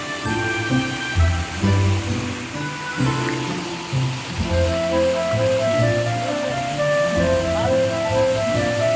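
Continuous rushing water of a waterfall near Chirani village heard up close, a dense steady roar with some fluctuating lower rumbles throughout.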